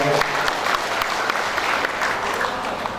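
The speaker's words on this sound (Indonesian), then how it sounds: "Tepuk tangan untuk beliau" Audience at a victory thanksgiving gathering applauds the arriving governor, a continuous, fairly loud burst of many hands clapping that holds steady for a few seconds.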